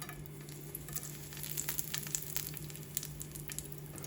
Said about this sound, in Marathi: पॅनमध्ये मी तेल तापत ठेवलं आहे तापला असणार आहे टाकते कढीपत्ता